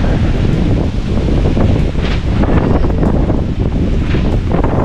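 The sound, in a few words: strong wind at a beach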